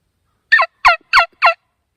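A homemade turkey call, sucked on to imitate a gobbling turkey, gives four quick, loud, rattling gobble bursts in an even rhythm, close up and alone with silence between.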